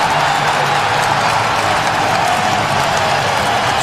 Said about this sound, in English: The crowd goes wild as Vinatieri misses for the first time this season